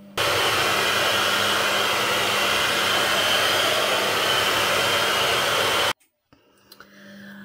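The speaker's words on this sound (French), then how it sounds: "Je vais vous épargner le bruit du sèche-cheveux" A hair dryer blows loudly and steadily with a constant whooshing roar for about six seconds, then cuts off abruptly, leaving faint rustling and handling noises.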